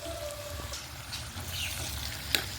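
Chopped onions with a little salt frying in about four tablespoons of oil in a pan for a masala curry, a steady close sizzle with soft stirring scrapes and a sharp click near the end, no talking.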